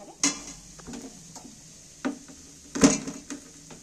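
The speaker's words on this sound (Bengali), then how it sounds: "এবার রসুনটা বেটে দেবুনি, রসুনটাকে ধুবো থেঁতো করে" Whole garlic cloves being crushed on a hard surface in a home kitchen, a few sharp, separate knocks and thuds spaced across a quiet background.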